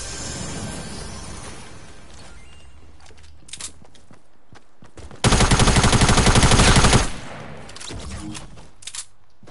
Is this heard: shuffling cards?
no